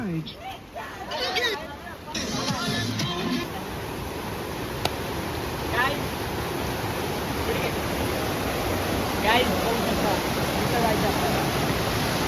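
Steady broadband rushing of falling water fills the scene, constant and fairly loud, with voices chatting faintly in the first few seconds.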